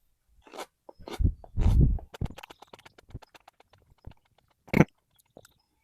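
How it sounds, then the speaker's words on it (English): Biting into a crunchy Tangerine Tiger yellow pepper, a close crisp bite followed by a string of small crunching chews and wet mouth sounds, with a later bite near the end in a quiet room. "So immediately, extremely crunchy, very juicy, super sweet"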